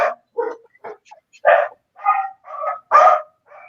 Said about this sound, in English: It's an angry puppy.